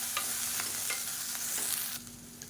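Small-cut okra sautés in a hot pan and hisses steadily while a spoon scrapes it in repeated strokes, about one every half second, before the sizzle drops away at the end. No voices.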